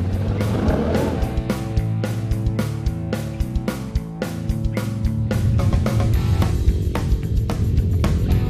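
A 2014 Can-Am Outlander 1000 Max Limited ATV rolls downhill with engine braking and no brakes applied, a loud, steady engine drone with dense rattling clicks and knocks from the terrain throughout.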